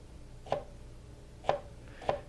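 A knife slices a jalapeno into narrow slices on a cutting board, three crisp, close chops at an unhurried, uneven pace, with nothing else heard.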